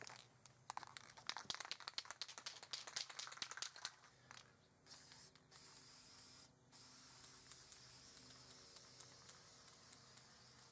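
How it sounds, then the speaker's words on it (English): Chrome spray paint hisses from an aerosol can onto a sword blade in close, steady bursts, first broken and choppy with rattly crinkles, then settling into one long continuous spray. "now we're going to do the blade with some chrome spray paint"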